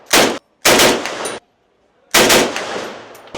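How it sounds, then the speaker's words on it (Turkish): An AK-47 rifle fires three loud bursts at a shooting range, each a rapid string of shots roughly half a second to a second long, separated by brief silences. "şu anda Amerikan Savaşı'nın yapıldığı bir yerde AK-47 ile bombalayacağız."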